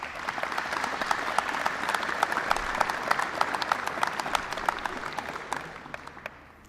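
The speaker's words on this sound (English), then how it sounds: "Could we please give them a wonderful round of applause?" Sustained audience applause at a university white coat ceremony, dense steady clapping from a large crowd filling the room, holding level for several seconds before gradually thinning and fading at the end.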